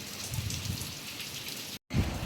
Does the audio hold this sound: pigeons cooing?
no